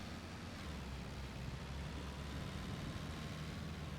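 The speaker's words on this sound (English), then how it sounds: "that wind noise when you're driving" Video game wind noise while driving a vehicle: constant broadband rushing like wind buffeting a moving vehicle, steady and unbroken with no voices, a dull roar throughout.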